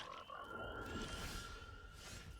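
Frog croaking from the Frog Butler card in a Teenage Mutant Ninja Turtles draft video game, a quiet, continuous croak with a steady tonal warble that holds for a couple of seconds against soft background noise.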